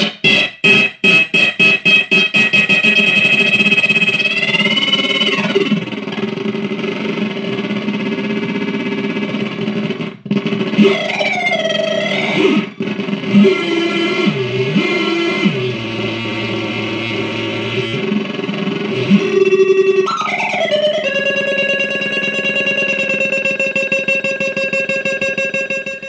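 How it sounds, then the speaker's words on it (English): A Landfill Noise DIY synth kit built on CMOS chips churns out buzzy, distorted saw-wave noise, with rapid stuttering pulses at first, then warbling pitch sweeps, sudden dropouts and shifting drones as the knobs change the tone. "What you hear is some CMOS based chips, saw waves I think,"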